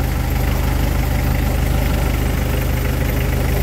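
A 1998 Mitsubishi L300 FB van engine idles steadily up close, a loud, even low rumble with a regular ticking pulse and no revving, and no voices over it.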